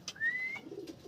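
A racing pigeon near its loft gives a single short coo alongside a thin whistling tone, brief and fairly close.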